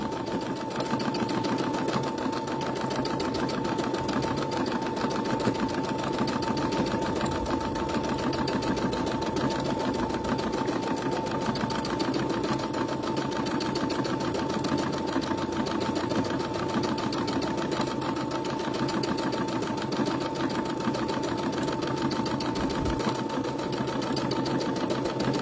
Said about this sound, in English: I'm back stitching, and the fabric's not moving, only the needle